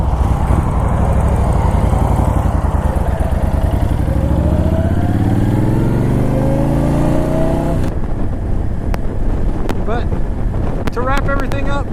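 A Honda Fury cruiser motorcycle being ridden, its engine droning and rising in pitch as it accelerates, heavy wind rush over the microphone throughout, then a rougher stretch with rattles and bumps.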